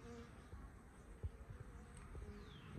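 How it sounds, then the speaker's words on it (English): Faint, low buzzing of honey bees at a hive entrance in spring, a soft continuous hum with occasional louder passes as insects fly close by. "And we got some bees"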